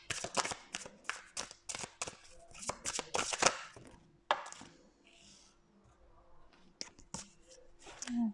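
Tarot cards shuffled and drawn from a deck, a series of quick papery flicks and taps close by, busy at first and then sparser, with soft speech murmured in places.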